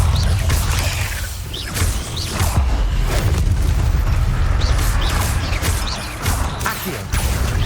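Confringo blasting spell in Hogwarts Legacy, heard as loud, continuous booming blasts with crashing, whooshing impacts across the whole stretch and no talk.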